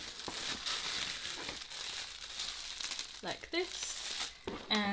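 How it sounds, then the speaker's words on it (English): A crinkly paper bonnet is folded by hand, giving soft rustles and a few sharper crinkling bursts while a person talks quietly. "I will fold the bonnet"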